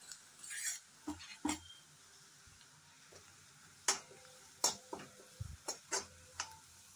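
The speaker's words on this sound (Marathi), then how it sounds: "हा जो मसाला आपण वाटलेला आहे तो सगळा घालायचा आहे आणि चांगला भाजून घ्यायचा आहे तेलात" Ground masala roasts in hot oil as a spatula scrapes and taps the pan in short irregular bursts over a faint low sizzle, close and fairly quiet, with no voices.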